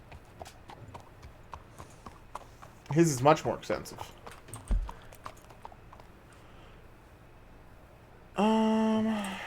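Hooves clip-clop in a steady rhythm with a person talking over them, followed by a burst of brighter synthetic tones near the end.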